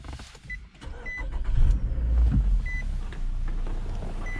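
A 2011 Nissan Altima 2.5 SL's engine cranks via push-button start and catches, settling into a steady low idle, with a faint electronic chime beeping a few times.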